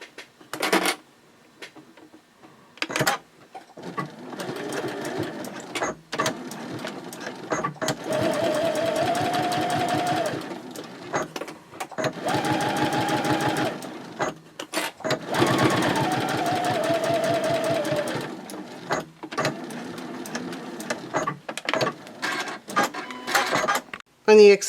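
A sewing machine stitches a gusset on a baby sling in several separate bursts, each a few seconds long with pauses between, and a voice talks during the gaps.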